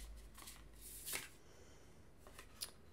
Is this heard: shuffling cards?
yes